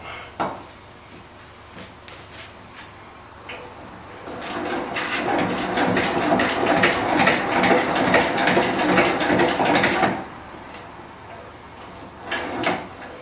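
A Racine power hacksaw is cranked down by hand, a steady grinding, ratcheting mechanical run that swells loud for several seconds and then stops, with a few clanks and ticks around it.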